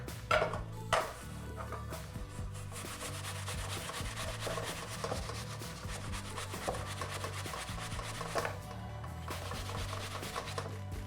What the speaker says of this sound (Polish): Teraz jabłka zetrę od razu do garnka na tarce na drobnych oczkach.